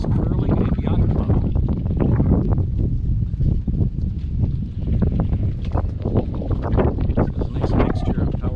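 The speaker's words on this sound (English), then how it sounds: "As you can see, it's pretty windy." Strong wind buffets the microphone at the Silver Fox Curling and Yacht Club marina, a loud, continuous rumbling roar with gusty swells, and someone talks over it at times.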